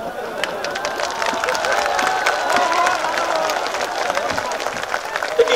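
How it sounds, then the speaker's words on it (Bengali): Large outdoor crowd at a political rally clapping and cheering in a sustained, dense wave of applause with crowd noise all through. "শেষ করার জন্য হাততালি দিচ্ছেন?"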